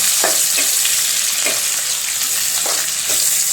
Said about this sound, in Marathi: कांदा असा चांगला परतून घेणं, कलर बदलूपर्यंत